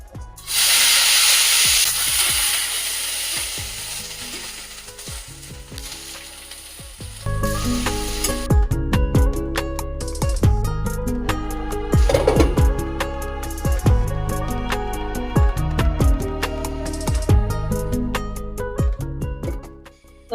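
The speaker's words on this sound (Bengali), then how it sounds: "ঢেঁড়স কেটে নিয়েছি ঢেঁড়সগুলো ভাজবো" Sliced okra sizzles and fries in a hot pan, a loud steady hiss with rising bursts and intermittent clattering stirs, heard alone without voices.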